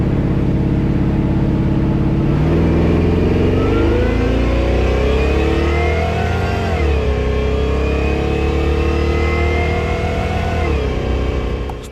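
A supercharged street car is run hard on a two-step launch test, its engine loud and close with rising, falling revs that surge several times across the stretch.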